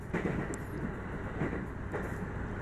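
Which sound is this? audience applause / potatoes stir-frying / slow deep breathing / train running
train running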